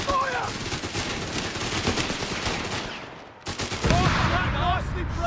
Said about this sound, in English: Upgrade to the squad with a scope to the rifle. Tricky package on the way! That's Rifle grenade! Fire!